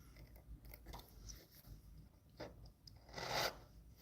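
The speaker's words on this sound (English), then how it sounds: "So I'm removing material from both sides to sort of even out that top corner right here." A hand file rasping material off both sides of a twisted-wire solder join, a faint, close, irregular scratching that builds into a louder burst of strokes near the end, with no talk.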